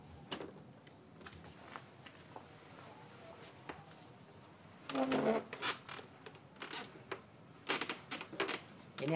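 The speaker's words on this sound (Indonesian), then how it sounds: "Ini bunyi karena ini ada pergesekan dari pipa." A homemade PVC pipe chair creaking as the pipes rub together while someone settles onto it with a cushion, scattered soft clicks giving way to bursts of louder rasping creaks, close and alone without talk.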